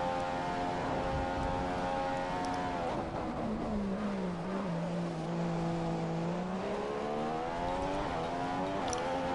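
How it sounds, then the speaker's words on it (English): A race car engine holds at full revs, droning steadily with its pitch dipping and then climbing back, loud and continuous with no talk. "I'm going to put my foot down up here on full revs."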